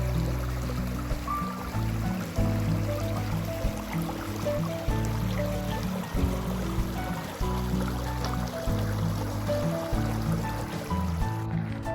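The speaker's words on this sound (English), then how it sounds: "So there's a little river, a little creek running by us." A small creek running past a campsite just outside Zion National Park, a steady babbling flow with a continuous low rumble underneath and no voices.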